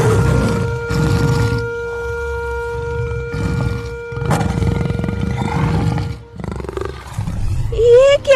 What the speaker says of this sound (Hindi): ये तो भूखे शेर के दहाड़ है।